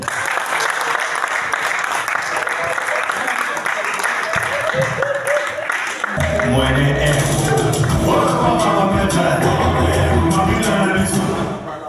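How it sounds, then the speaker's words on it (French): A crowd at an African stand-up comedy show in Brazzaville applauds a Congolese comedian, sustained close clapping that swells and continues with voices and music mixed in. "Est-ce qu'on peut encore applaudir pour Alvaro Madeli?"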